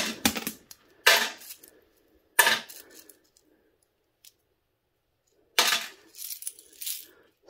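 Small cell phone IC chips clatter as they are dropped into a container, coming in a few short bursts of clicking and rattling with quiet gaps between them.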